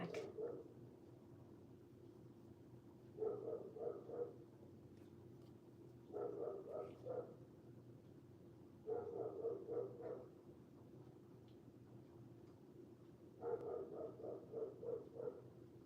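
A dog barks in short bursts of three to four yaps at a time, repeated four times with gaps between, distant and fairly faint over a low steady hum.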